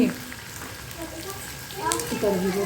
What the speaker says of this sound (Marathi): लसूण पहिला टाकला की जळून जाईल आणि कडवं होईल ना त्यासाठी थोडस फ्राय करून घेऊया